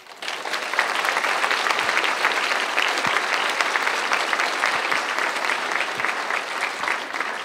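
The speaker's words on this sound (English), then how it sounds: "I want you to clap for your parents because they showed up" Audience at a middle school awards ceremony applauding parents, a sustained, dense burst of clapping that swells in and holds steady and loud throughout.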